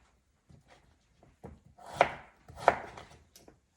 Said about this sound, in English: we'll do wedges again. So I'll cut in half